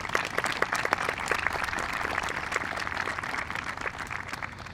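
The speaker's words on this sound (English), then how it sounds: "so give them a round of applause." Steady applause from a crowd at a high school commencement ceremony, sustained clapping for several seconds with no talking over it.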